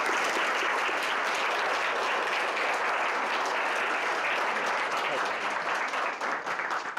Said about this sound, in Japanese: 構築ありがとうございますということで拍手で締めていただければと思います。